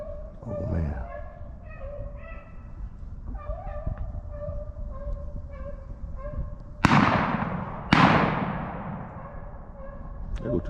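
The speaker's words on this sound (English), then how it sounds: "There go 2 shots." Two sharp gunshots ring out one second apart during an outdoor rabbit hunt, each loud crack trailing off in a short decay over a steady background hum and faint calls.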